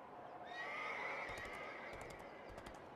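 Horse neighing in the video game Runes of Magic, a long whinny rising and falling over steady ambient game background, with a few soft clip-clop hoof beats following; no talk.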